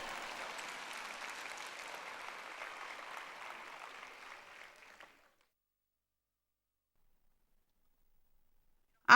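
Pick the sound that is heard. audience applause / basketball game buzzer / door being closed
audience applause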